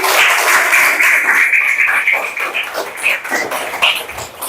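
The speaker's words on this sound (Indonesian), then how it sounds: "Tepuk tangan dulu dong" Applause from a classroom of elementary school children during a coding lesson, dense and continuous at first, then thinning into scattered claps.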